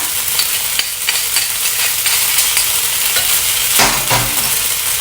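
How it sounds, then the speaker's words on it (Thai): Rice noodles stir-fry with dark soy sauce and oyster sauce in a hot pan, a loud continuous sizzle broken by repeated scraping and tossing strokes of a spatula, close and steady throughout. "พอเราเริ่มผัดลงไปนะคะ เราจะใส่ซีอิ๊วดำลงไปเลยค่ะ"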